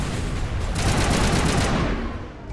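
Rapid gunfire in the shooter Mass Effect during a fight with thugs on the Citadel, a dense sustained burst of shots that tails off near the end, with no talk.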